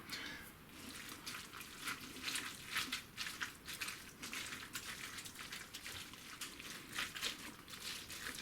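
Pulled pork is stirred with Hellmann's sweet barbecue sauce in a Ninja Foodi Max, giving a continuous faint wet squelching and scraping that rises and falls steadily throughout.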